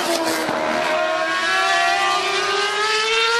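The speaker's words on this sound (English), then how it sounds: "It was the 2011 RB7. Of course, it's got that glorious V8 in it. 750 horsepower." A 2011 Red Bull RB7 Formula 1 car with a 750-horsepower V8 engine revs loudly and continuously at Bathurst, its high-pitched engine note climbing steadily as it gasses up in front of the crowd.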